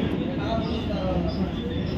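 An AC local train on the Ranaghat to Sealdah line runs with a steady, dense interior rumble and hum, while a voice talks over it.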